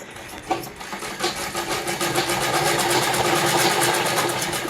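Stitching along the double-folded hem of a plain kameez, a sewing machine runs close and loud in a continuous rapid whir, with no talk over it.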